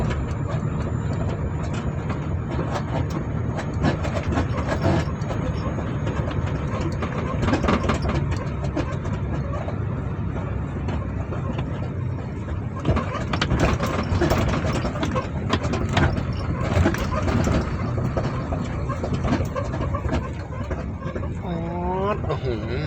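A wheel loader at a stone yard runs with a steady, loud low engine drone that rises and falls slightly throughout, with people talking over it.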